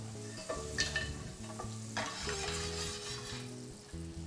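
Butter melting in a frying pan for Portuguese sweet bread French toast, with a soft steady sizzle, scattered utensil clicks and a close, moderately loud background hum throughout.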